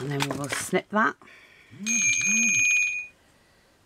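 A mobile phone rings with a bright, warbling electronic tone for about a second, heard alone just after a person finishes speaking during a ribbon bookmark craft session.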